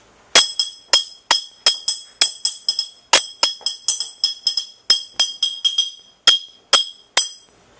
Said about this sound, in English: that's one way you play your bottle and your spoon